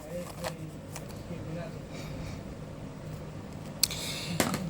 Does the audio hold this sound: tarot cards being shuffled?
yes